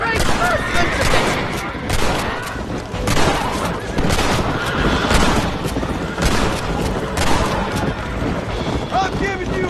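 Gunfire from the video game Red Dead Redemption on Xbox One, dense bursts of shots and booms crowding together with game music and battle noise throughout.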